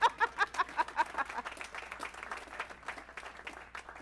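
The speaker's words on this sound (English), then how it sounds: "You can applaud too." Scattered applause from an audience at a county budget address: a few distinct claps at first, then thinning, quieter clapping that fades over about four seconds, fairly distant in a large hall.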